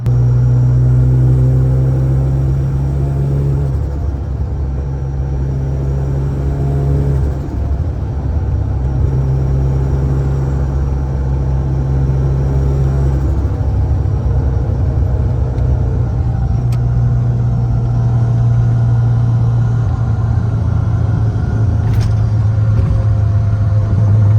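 A Mazda FC RX7 rolls along a bumpy road, with a steady loud low engine drone and road rumble that shifts pitch with gear and speed, heard from inside the car for over twenty seconds with no talk.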